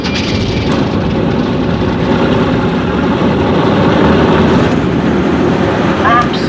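Propeller aircraft engines running up at the start of a takeoff roll, a loud, dense, continuous low roar that swells slightly midway, with a brief radio-like voice near the end.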